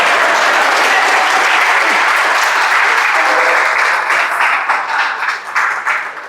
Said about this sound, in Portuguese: Pode aplaudir, deixa.